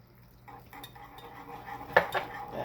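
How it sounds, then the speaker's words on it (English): Honey mixture whisked in a bowl with a small whisk, soft rhythmic clinks and scrapes building to a couple of sharper taps against the bowl, close and without talk. "I'm going to get all the honey in there. Alright. Whisk that."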